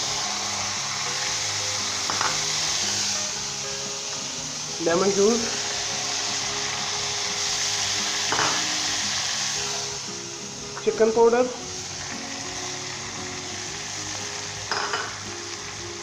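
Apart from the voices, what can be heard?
stir-frying vegetable macaroni with capsicum and carrots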